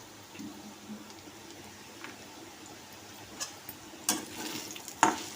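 Sliced bitter gourd (kakarakaya) frying in a pan with chilli powder and salt, a low, soft sizzle under scattered scraping and clacking as a spatula stirs it, with a couple of sharper knocks toward the end.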